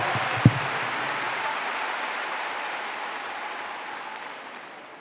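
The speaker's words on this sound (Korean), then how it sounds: "우리 다시 한번 하나님께 영광 돌리며 박수로 감사를 드리겠습니다" A large church congregation at a denominational anniversary thanksgiving service applauds in a wide, even wash like heavy rain, opening with a single thump and then fading slowly.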